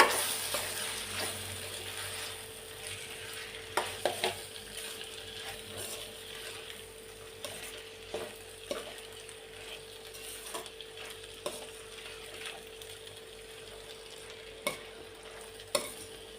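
Tomato and brinjal curry is stirred in a pan, with a soft continuous sizzle under repeated scraping and clicking of a spoon against the pan, the strokes irregular and fairly quiet.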